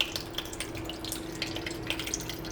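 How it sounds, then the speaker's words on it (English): Liquid being poured from one container into another in a home kitchen, a soft steady trickle and splash running continuously at close range with no talking. "I'm gonna pour it into a different container."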